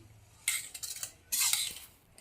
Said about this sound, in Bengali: ব্যাটারটাকে ভালো করে গুলিয়ে নিচ্ছি